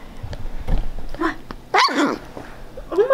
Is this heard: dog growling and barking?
yes